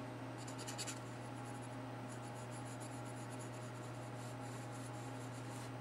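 A pencil roughly sketching the bottom rock of a still life, giving a faint, steady scratchy rubbing of graphite on paper in short strokes under a constant low hum, with no talk.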